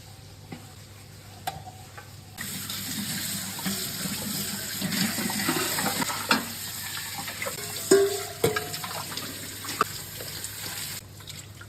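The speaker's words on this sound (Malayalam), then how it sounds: "ആദ്യം കുറച്ച് വെള്ളം വെച്ചിട്ട് കഴുകുന്നുണ്ട്. പിന്നെ കൂടുതൽ വെള്ളം ഉപയോഗിച്ചിട്ട് നമുക്ക് ഫുൾ ക്ലീനാക്കി വെക്കാം" Dishes are rinsed under a running kitchen tap, a steady close splash of water with occasional clinks and knocks of vessels against the sink.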